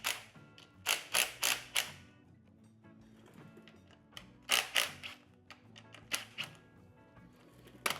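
Work on removing the front axle from a dirt bike wheel: a tool ratchets and clicks in quick short bursts with pauses between them, close and moderately loud, over a faint background hum, with no talking.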